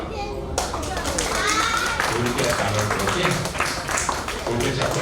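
Guests at a child's birthday party clap together in a sustained patter of hands, mixed with children's voices and chatter throughout.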